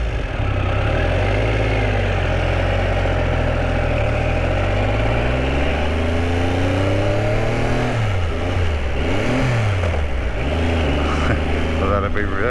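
A Triumph Sprint 900 motorcycle engine running close and loud, a steady idle rumble rising into several revs that climb and fall, with a voice talking over it.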